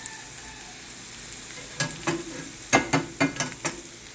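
Onions frying in a pan for chilaquiles rojos, a low continuous sizzle joined by a quick run of crisp, rhythmic spatula strokes and scrapes toward the end.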